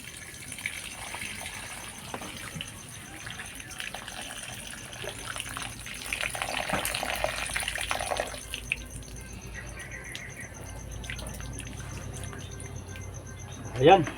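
Water gushes and trickles steadily as it is drained out of a container used for growing azolla outdoors, a moderate, continuous watery sound with a brief louder splash near the end.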